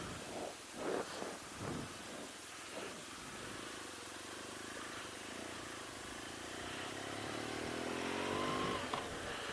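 A 2016 BMW R1200GS motorcycle ridden in dynamic mode, its engine droning steadily with wind rush and rising revs toward the end, a few faint voice-like bursts early on.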